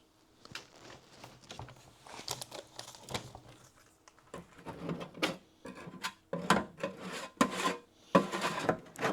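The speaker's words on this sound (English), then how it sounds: "It's easiest to scrape and clean this out when it's good and hot." Hot wax being scraped out of a solar wax melter with a tool, a series of irregular, raspy scrapes that grow louder and more frequent, close by and with no voices.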